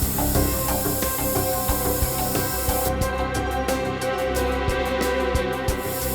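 A forensic spray for detecting blood hisses loudly and continuously, later broken into rapid short pulses, over a dense noisy background.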